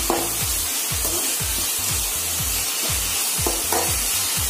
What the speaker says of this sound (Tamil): சால்ட் ஆட் பண்ணி நல்லா மிக்ஸ் பண்ணிக்கலாம்.